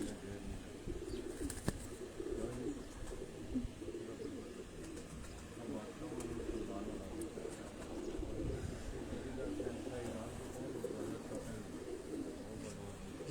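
A flock of pigeons kept by a Pakistani pigeon fancier coo steadily in a loft, their low overlapping calls filling the space with soft murmuring throughout, with occasional wing flutters nearby.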